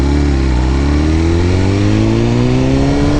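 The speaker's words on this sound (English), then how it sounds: "The more you hear those crackling pops coming out from the exhaust" BMW S1000RR motorcycle with a new exhaust revving close by: a loud, continuous engine note climbing steadily in pitch throughout, with no voices.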